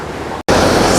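A river in rural Jamaica after hurricane damage rushes as a loud, broadband wash close to the microphone, broken once by a very short gap.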